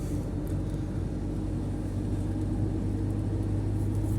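A vehicle drives along a rough road with a steady, dense, low rumble of engine and tyres and no breaks.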